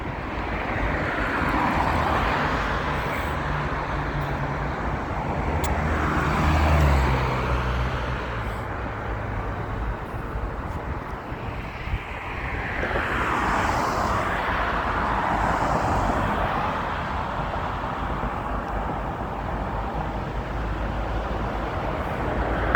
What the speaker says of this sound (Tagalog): Ayan, daming tumatakbo naman sa sasakyan.